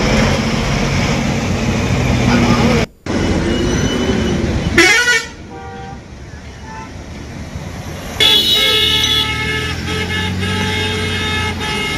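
Traffic jam on the Hyderabad–Vijayawada highway, with car and bus horns tooting in several bursts over a steady rumble of vehicle engines, sharp cuts between segments and some speech mixed in.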